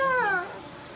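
An old cat that was just washed gives a single short meow close by, a clear wavering cry that falls in pitch and fades within half a second.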